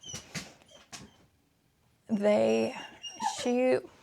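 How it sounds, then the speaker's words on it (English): A pet dog whimpers and whines in a home, high thin cries in two bursts near the end, after a short stretch of quiet, close and fairly loud with a voice talking at the start. "My dog wants to be with the cat."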